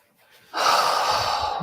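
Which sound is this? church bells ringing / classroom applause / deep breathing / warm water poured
deep breathing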